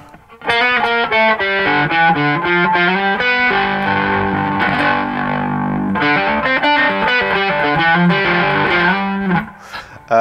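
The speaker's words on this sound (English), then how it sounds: "Here's a bit more distortion." A distorted, gritty cigar box guitar plays a strummed chord riff with a pick, steady rhythm, loud and close, with a brief pause before the phrase repeats.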